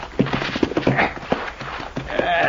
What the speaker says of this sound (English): I brought the horses, boss.